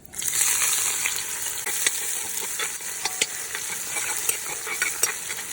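Onions, garlic, ginger and pimento fry loudly in a pot of hot oil after mustard seeds, for a Trinidad East Indian curry duck, a steady dense sizzle with scattered crackles and occasional stirring clicks, close up and alone.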